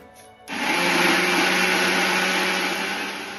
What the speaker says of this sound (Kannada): ಈಗ ಮಿಕ್ಸಿ ಮಾಡ್ಕೊಳ್ಳೋಣ